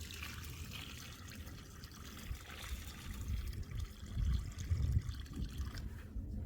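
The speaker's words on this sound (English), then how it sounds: "I pour some on the post to rinse any of the cement off." Water is poured onto a wooden fence post to rinse off wet cement outdoors, a steady close trickle and splash that swells slightly in the middle.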